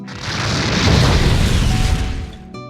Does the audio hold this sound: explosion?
yes